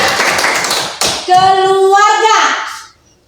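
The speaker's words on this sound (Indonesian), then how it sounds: "Tepuk tangan untuk anak." Children in a classroom clap briefly for a classmate, a short burst of hand claps near the start followed by a sharp tap, then a child's sung or drawn-out voice rising over the end before it falls quiet.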